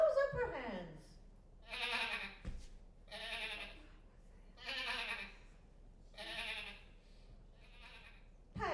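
Sheep bleating on stage in a church vacation Bible school drama, four or five drawn-out wavering bleats spaced a second or so apart, fairly close and clear, with a short voiced sound at the start.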